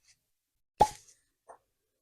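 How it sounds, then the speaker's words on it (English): The cork pops from a bottle of Thompson Bros Tesco Value 8 year old North Highland blended Scotch whisky: a single soft, short plop, then a faint tap, close and otherwise quiet. "let's have a listen to the cork pop"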